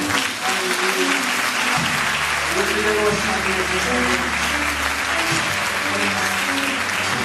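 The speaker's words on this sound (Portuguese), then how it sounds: "Você pode aplaudir ao Senhor." A church congregation applauds the Lord during an evening service, with sustained, even clapping and a low organ or keyboard chord swelling underneath.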